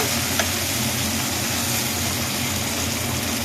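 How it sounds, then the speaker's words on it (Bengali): Chopped tomatoes and spice paste fry with golden brown onions in a pan, a steady, even sizzle with a low rumbling undertone that holds constant throughout. "দেখুন পেঁয়াজটা গোল্ডেন ব্রাউন হয়ে গেছে এবার দিয়ে দেবো টমেটো কুচিগুলো আর দুটো পেস্তা এগুলোকেও আবার ভালো করে ফ্রাই করতে থাকবো"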